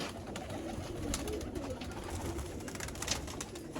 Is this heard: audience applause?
no